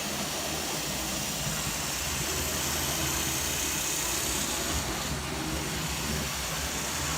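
Lima military model train running around its track and over crossings, a constant loud motor whir with rumbling wheel noise that holds steady from start to finish.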